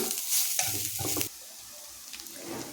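Spices, including coriander powder, stirred steadily in a frying pan for a bread pakora potato filling, with a soft sizzle and repeated scraping strokes that are louder in the first half and then quieter, with no voices.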